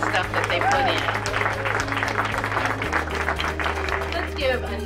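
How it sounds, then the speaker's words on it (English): An indoor audience at a Black History Month art festival applauds the winners, steady clapping mixed with crowd murmur and a low background hum. "Let's give another big round of applause to all our winners"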